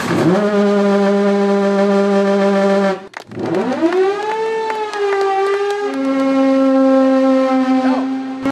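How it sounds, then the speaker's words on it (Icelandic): A foghorn at the Dalatangi lighthouse, newly repaired, blasts in long loud steady tones, a hoarse sustained blare broken by a brief pause, then resuming with a lower, sliding pitch and a final deep held note. "þegar þokulúðurinn þar var látin blása eftir viðgerð"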